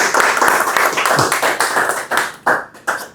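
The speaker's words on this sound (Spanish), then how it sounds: "decimos con un fuerte aplauso a Rolando" An audience at a university lecture applauds a visiting speaker, a dense burst of hand claps that thins toward the end as individual claps stand out.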